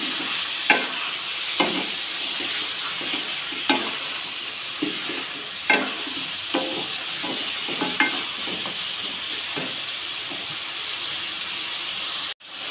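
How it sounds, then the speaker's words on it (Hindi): Mutton and onions fry in a pan with a continuous sizzle, broken by regular scraping strokes of stirring at intervals of a second or two; no one speaks. "गोश्त और प्याज को अच्छे से करना है फ्राई।"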